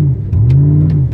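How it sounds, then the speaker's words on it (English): A 2008 Chevrolet Trailblazer SS V8 heard from inside the cabin as the throttle is briefly tapped: a loud, low engine drone swells in a short rev and then eases, with no talking. "I'm just gonna tap the gas, man. Watch how this thing jerk me back."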